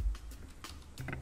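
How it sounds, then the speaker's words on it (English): Quick keystrokes on a computer keyboard sound out in a brief, irregular burst of soft, close clicks with no talking. "Here you need to type"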